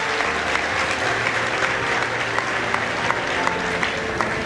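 An audience at a comedy speech for police recruitment candidates claps loudly together in a dense, steady burst of applause that lasts the whole moment, with faint voices barely showing beneath it.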